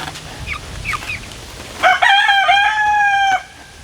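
Chickens in a greenhouse give a few soft clucks, and then a rooster lets out one loud, clear crow close by.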